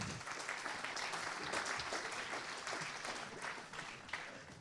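Audience applause for round-table panelists at a French rail industry conference, sustained and steady clapping filling the room for several seconds, with no talk over it.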